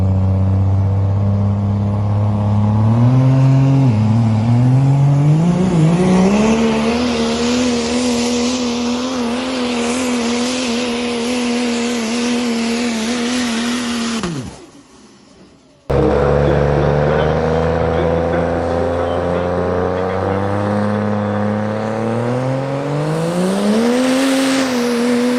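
A pickup truck engine revs hard during a sled pull at the Ultimate Callout Challenge 2022, a loud sustained roar with rising and falling pitch, briefly cutting out midway before roaring again.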